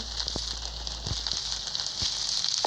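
Fire burns in a Minecraft game world, a steady soft crackle and hiss with a few sharper pops scattered throughout, fairly quiet and close.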